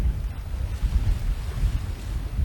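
Steady, rumbling wind buffets the microphone on a cliff top above the ocean at daybreak, a loud continuous low roar with gusty swells and no speech.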